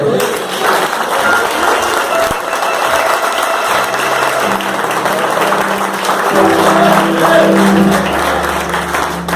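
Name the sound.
congregation clapping for Jesus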